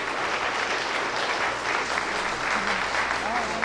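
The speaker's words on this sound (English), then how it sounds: "Let's have a round of applause for Victoria and David." A wedding crowd claps steadily throughout, dense and sustained applause without a break, with a little whistling and cheering mixed in.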